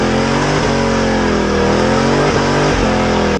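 Whipple supercharged 7.3L Godzilla V8 in a swapped Crown Vic, heard driving at close range: a loud, steady engine drone with shifting pitch and brief dips between gears, ending abruptly.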